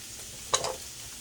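Orange roughy stir-frying in a pan with soy sauce gives a single short burst of sizzling and stirring, then fades back to a faint background hiss.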